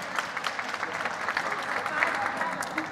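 An audience at a festival programme presentation quiz claps for the second team, a dense burst of applause with crowd murmur sustained throughout, fairly close and even in loudness.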